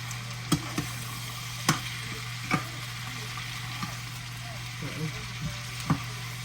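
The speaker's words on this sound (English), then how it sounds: "Just stir fry your Brussels sprouts for about 10 minutes" Brussels sprouts stir-fry in a pan, a soft continuous sizzle broken by sharp utensil clacks and scrapes against the pan at irregular intervals, with no talking.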